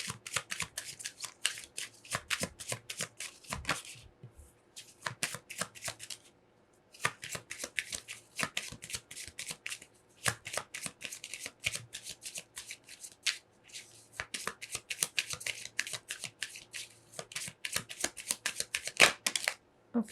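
Tarot timing cards being shuffled and laid face down, giving bursts of crisp riffling and flicking card noise in quick repeated runs, separated by short pauses, close and moderately loud with no talking.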